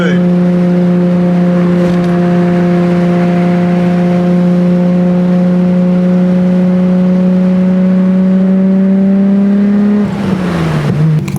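A Nissan Skyline R32 GTR engine drones loudly and steadily from inside the car on a mountain drive, holding a constant tone before the pitch drops as the throttle eases near the end.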